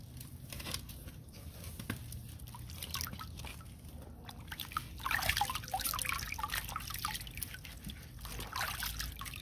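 Running water trickles and splashes steadily while king bolete mushrooms are washed, with faint dribbling and sloshing close by and no speech.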